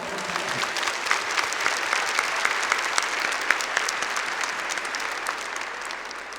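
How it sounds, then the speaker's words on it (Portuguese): A congregation at a Catholic church service applauds for Jesus, steady dense clapping from many hands held at an even level throughout, moderately loud and without speech. "Palmas para Jesus."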